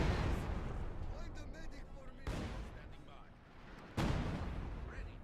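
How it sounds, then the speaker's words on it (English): A captured mortar fires in the Company of Heroes 2 game: two sharp, booming launches land about two seconds apart over a continuous rumble of battle noise. "Oh yeah, this is the captured mortar."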